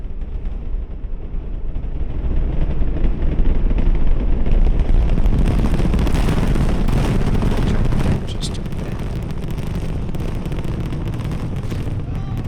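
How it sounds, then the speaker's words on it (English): Distant roar of the Artemis I rocket launch, a dense, sustained low rumble with crackling texture that swells and then eases slightly, heard from miles away, with a brief spoken remark partway through. "play the sound of the rocket Artemis I launch itself and kind of what that would sound like from a distance"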